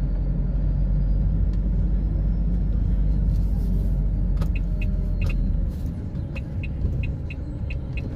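A bus driving on the road, a steady loud low engine and road rumble throughout that eases slightly near the end, with faint clicking ticks like an indicator in the final seconds.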